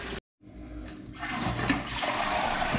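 Toilet cistern flushing after a ball valve repair, with a loud rush of water that settles into a steady, continuous refilling hiss following a brief silent gap.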